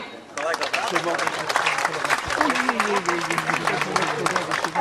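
Audience applause for the mayor at an Italian song festival, a dense steady patter of many hands from the start, with a voice or music tone sliding through the middle and continuing to the end.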